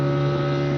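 Steady, loud droning hum of a fishing trawler's engine near Digha estuary as the trawler sinks, heard close and continuous for a brief moment with wind noise around it.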